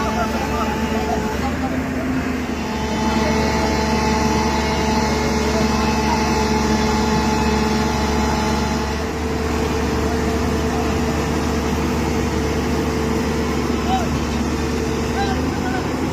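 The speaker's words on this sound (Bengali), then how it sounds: "জেসিবি একটু করে পেছাচ্ছে" A JCB engine drones steadily and loudly as it reverses, slowly hauling a big boat down into the sea, with continuous mechanical hum and a crowd faintly present.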